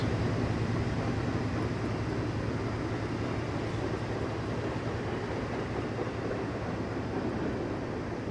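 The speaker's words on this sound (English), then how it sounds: "This is our biggest ever freight train." A long, heavy freight train in the Canadian mountains of Train Simulator rumbles steadily and loudly, a dense, continuous low roar of wheels and cars with no talk over it.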